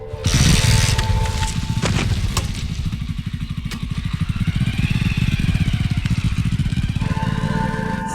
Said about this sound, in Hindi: गाड़ी छोड़कर बाइक लेकर जा रहा हूँ